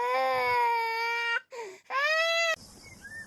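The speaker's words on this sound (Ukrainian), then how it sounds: "Наші вушки почули, як плаче дитинка маленька." A small baby cries in loud, wailing bursts, two long cries broken by a short whimper, close by, ending abruptly into quiet.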